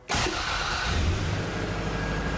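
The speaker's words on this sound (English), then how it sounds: "touch those wires together temporarily to crank your engine" A hotwired car's engine cranks briefly and then catches, settling into a loud, steady running rumble close by, with no talking.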